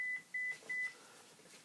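Three short, faint electronic beeps in a quick even sequence from a mobile phone notification, heard alone in a quiet room.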